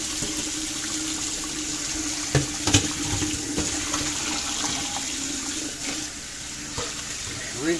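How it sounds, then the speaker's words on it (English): Beans rinsed under hot running tap water in a kitchen sink, a continuous steady stream with a few knocks and splashes as they are handled. "We'll rinse everything off."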